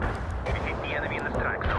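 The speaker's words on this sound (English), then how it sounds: "Artillery strike success. Concealing that area with smoke. Commencing the barrage." Artillery barrage in the World in Conflict strategy game, a dense continuous rumble of explosions and low booms throughout, with voices talking over the battle noise.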